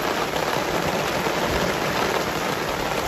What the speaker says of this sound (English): Make sure you document the rain.